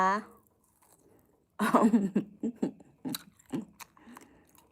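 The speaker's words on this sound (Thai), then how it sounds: "มาทานด้วยกัน สตรอเบอรี่ อร่อยไหมคะ" Someone eats and chews strawberries up close, with soft wet bites and squishy chewing sounds in short irregular bursts, following a brief voice at the start.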